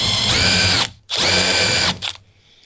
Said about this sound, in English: Drill a few pilot holes.